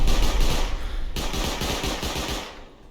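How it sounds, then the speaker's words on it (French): Incendiary turrets in a video game firing a rapid, continuous burst of automatic gunfire, loud and close, tapering off toward the end with no speech over it. "Ah, c'est des tourelles incendiaires."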